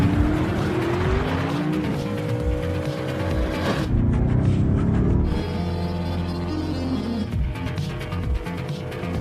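Cars spin around and give chase in the action film Transporter 3: loud engines roar under rising tire squeals and skidding, with sustained, intense vehicle noise throughout and no talk.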